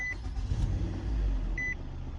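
A 2012 Nissan Altima with the 2.5 engine, just after an oil change, running on the driveway: a steady low idle rumble throughout, with a couple of brief electronic dash chimes.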